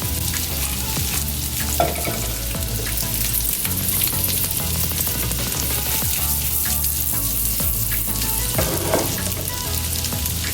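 Butter and a little olive oil heat in a pan, giving a continuous loud sizzle and crackling fry with scattered pops and brief scraping stir sounds throughout, close by and with no talk.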